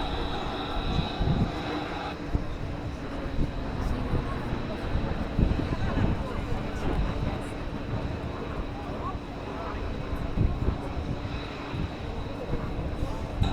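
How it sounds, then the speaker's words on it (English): A Lockheed F-35A fighter jet warming up at a Southern California airshow, its engine a steady, broad roar that holds throughout amid crowd noise and a faint public-address voice. "Warming up the F-35A."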